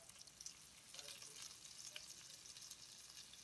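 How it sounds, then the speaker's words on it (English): Garlic sizzles as it hits a hot pan, a faint, steady, bright crackle with a few soft stirring scrapes. "Adding the garlic."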